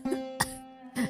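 A woman lying on a torn mat coughs three times, short rough bursts spaced across a second over a steady, quiet background tone.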